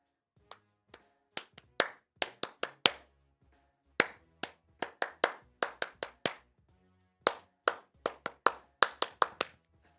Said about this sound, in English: Are y'all saying let's go when I'm clapping?